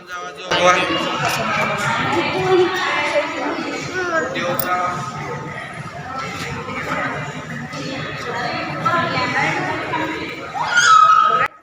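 Dense crowd chatter fills the busy entrance of the Shri Ambabai (Mahalaxmi) temple in Kolhapur, a steady close murmur of many voices with vendors nearby, continuous and fairly loud throughout.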